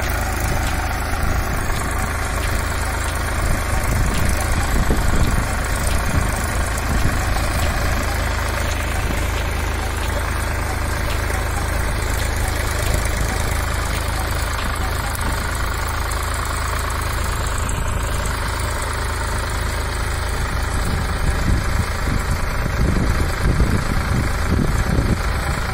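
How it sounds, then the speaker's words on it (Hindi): A four-wheel-drive tractor works a farm field, its engine chugging steadily and loud from start to finish with no talk. "तो ट्रैक्टर फुल डिप लेके चलता है भैया।"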